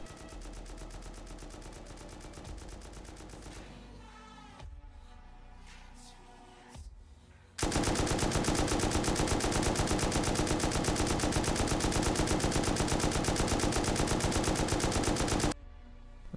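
Rapid automatic M2 fire in the game Rust: a stuttering burst fades out, a short quieter gap with clicks, then a long, loud, unbroken stream of shots that cuts off sharply, close and alone.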